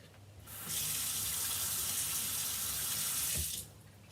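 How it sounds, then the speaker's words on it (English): Running tap water rinses a stamping brush in a sink, a steady hiss of flowing water that starts abruptly, holds for about three seconds, and then cuts off, with no talking. "Rinse it again."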